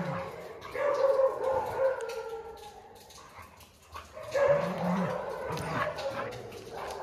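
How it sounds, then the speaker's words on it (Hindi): A working-line Rottweiler barks and yelps on a cold lawn in Delhi, with excited whines and howl-like cries rising and falling over several seconds. "ये होता है वर्किंग लाइन कुत्ता"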